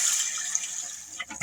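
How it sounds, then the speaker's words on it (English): Water rushing into a rear outlet toilet just after the supply valve is opened, a steady hiss and gush throughout, with a few sputters near the end as air clears the line. "And now we have water flowing in the toilet."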